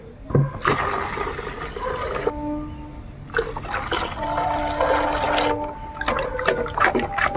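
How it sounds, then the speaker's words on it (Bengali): Water is poured into a potato-water mixture meant for garden plants, making a close splashing and gurgling pour in several bursts with trickles and drips between them, and no one speaks. "এর সঙ্গে আরও দু লিটার জল আমি এর মধ্যে মেশাবো"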